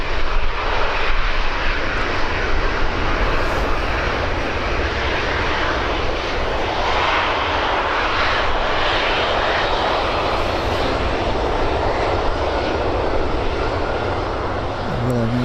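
A jet airliner departing Birmingham Airport, a loud, continuous engine roar heard close up that holds steady for the whole stretch without fading.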